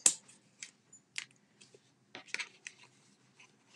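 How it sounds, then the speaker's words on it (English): Scissors cut foam tape in short, quiet snips and crisp rustles, scattered irregularly across a few seconds with no voice. "Let me just get some scissors so I can cut this."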